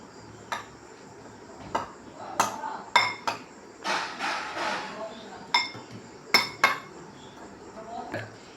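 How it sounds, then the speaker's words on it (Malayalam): A vegetable salad with salt being stirred in a bowl, with sharp metallic clinks and taps of a utensil against the bowl, irregular and close, plus a brief rustling burst midway and no talk. "നമുക്കിനി ഇളക്കാം"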